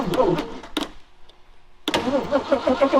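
Engine cranking after the starter solenoid is jumped on a Ford Bronco, rhythmic whirring starter churn close up, a short pause, then cranking again without catching.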